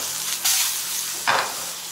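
A bass fillet searing in duck fat gives a steady, close, loud sizzle, swelling twice into brief louder hissing bursts. No one speaks.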